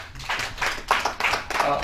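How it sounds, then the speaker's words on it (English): An audience claps for a presenter after a talk at a chamber of commerce gathering, a short burst of distinct, fairly close hand claps with voices mixed in. "Can we give him another round of applause?"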